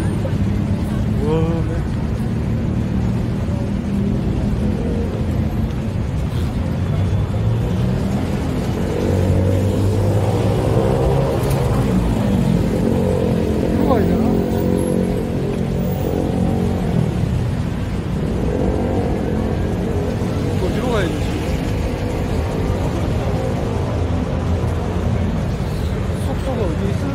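Night street traffic in Sukhumvit, Bangkok, with cars and motorcycles idling, revving and passing in a continuous loud roar of engines, while people talk close by throughout.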